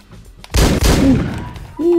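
Gunfire in the video game Hotline Miami: a loud, close burst of shots that rolls into a sustained booming tail, with a tonal game sound rising near the end.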